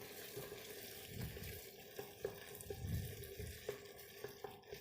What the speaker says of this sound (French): vous mettez de l'eau jusqu'au niveau de...